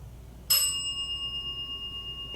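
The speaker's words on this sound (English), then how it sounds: "The bell is dinging." A single bell is struck once and then rings on with a clear, sustained metallic tone that slowly fades, over a faint low background hum.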